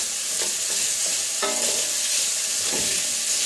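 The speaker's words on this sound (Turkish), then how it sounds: "Ve güzelce şöyle sotelenmeye devam ediyor." Onions and tomatoes sizzle steadily in a hot pan, with a few scraping stirs of a utensil breaking through the constant frying hiss.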